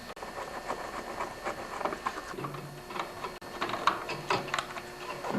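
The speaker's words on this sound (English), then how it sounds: "What I'm going to remove at this point are the two Torx screws right here and a third one down here" T25 Torx screws are backed out of the engine cover on a Briggs & Stratton snowblower, with irregular small clicks, ticks and scraping taps of the driver close by, no talk.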